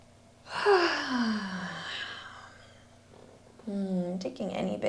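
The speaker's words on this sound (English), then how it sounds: "Taking any big breaths out that feel welcome, that feel relieving" Deep, voiced exhales in a trauma-informed yoga class: a long sighing breath out of about two seconds, a brief pause, then a second audible release, close and clear.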